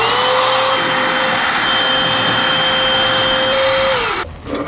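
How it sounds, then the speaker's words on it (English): A vacuum cleaner runs at full power as a loud, steady whine with a broad rushing hiss, then cuts off near the end and winds down. "let me just do the vacuum in my room"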